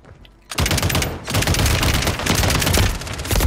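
Dense, continuous belt-fed LMG fire with a thermal optic in the battle royale game Warzone, a loud sustained burst starting abruptly after a brief quiet moment and running unbroken to the end.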